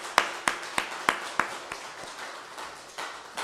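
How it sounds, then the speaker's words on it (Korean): A church congregation claps during a Sunday morning worship service, giving five or six sharp, evenly spaced claps that then fade into a softer, scattered patter across the room. "하나님 앞에 먼저 영광의 박수부터 한번 치고 합시다"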